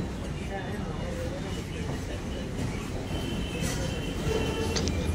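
Budge Budge local train passing close by on the Sealdah line, a steady loud rumble of wheels and carriages with faint squeals, continuous throughout.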